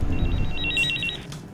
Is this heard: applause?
no